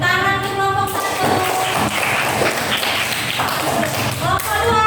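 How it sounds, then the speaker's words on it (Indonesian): Classroom applause for a group of students, scattered hand claps and taps mixed with voices, uneven and moderately loud, with some speaking heard during the clapping. "Tepuk tangan untuk kelompok 1"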